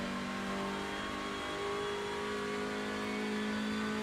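A Hyundai Elantra TCR race car in iRacing at Summit Point, its engine droning loud and steady in a high gear as it pulls hard with a slowly rising pitch, close and continuous, with no talking.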